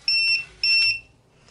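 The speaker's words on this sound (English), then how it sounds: "And then there'll be a secondary light that will just beep to just come on to tell you that it's in motion." A carp fishing bite alarm gives two sharp, loud electronic beeps in quick succession, each a bright high tone lasting about a third of a second, followed by quiet.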